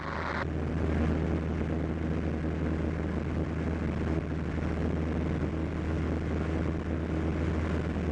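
Steady, loud droning of a Cessna 152's propeller engine in flight, heard from inside the cockpit, a constant low hum with broadband wind roar that holds even throughout.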